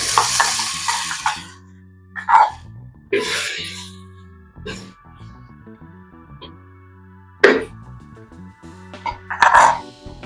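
Tomatoes going into a clay pot of softened onions for a village-style fish curry, a few scattered scrapes and stirs with a low hum between them, close and intermittent.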